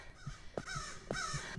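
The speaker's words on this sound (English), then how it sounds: "Oh god, that bird sound effect is awful." Bird cawing sound effect in the game Absence, a crow-like caw repeated a few times in quick succession, close and fairly loud with no talk.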